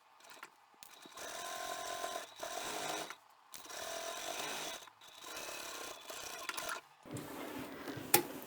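A domestic sewing machine topstitches a large trapezoid-shaped utility bag at a 3.5 stitch length, running in several whirring bursts separated by short pauses, close and fairly loud, with no talking.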